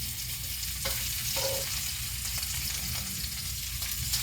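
Pork chops frying in a cast iron skillet, a steady close sizzle with a few scraping stirs of a utensil against the pan.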